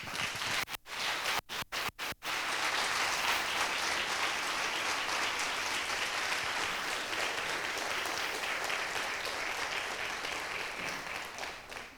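Applause for music students at a cultural heritage congress, a few sharp isolated claps at the start swelling into a long, dense, steady ovation from a large audience that slowly tapers toward the end.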